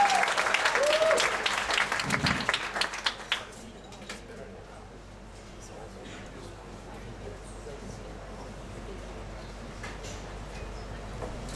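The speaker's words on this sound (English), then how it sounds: "please give a big applause to our first speaker tonight, Claudia Eslahpazir" Brief applause from an evening Pecha Kucha audience in Ubud, Bali, opening the clip with scattered clapping that fades out within a few seconds, leaving quiet room noise.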